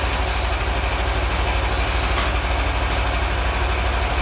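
A dune buggy engine running steadily at close range, a loud rough rumble with a dense low throb, as it is put into gear on its first test.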